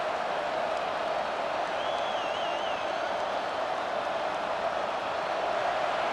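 A home crowd roars in College Football 26 during a Morgan State vs North Carolina Central HBCU game, a dense, steady wall of cheering noise with a short whistling tone rising briefly above it and no voices over the top.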